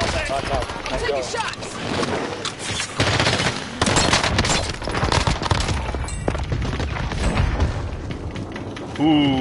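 Gunfire in the video game Warzone, with dense, loud automatic bursts and scattered booms running almost without a break under excited player voices shouting over the action.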